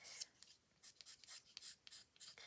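Pastel pencils drawing on card in a card-making project, a run of quick, soft scratchy strokes in an irregular rhythm, close and quiet, with no talk.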